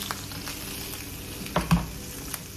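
Lemon pepper fish fries skin side down in a pan with a soft, continuous sizzle, plus a couple of brief bumps and pops as it settles, close and quiet.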